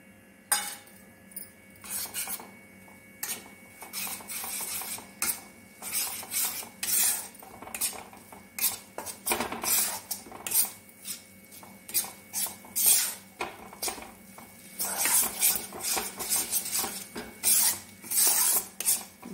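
Gram flour roasting in a pan over low heat, with a metal spoon scraping and clinking steadily against the pan in repeated close strokes and no speech.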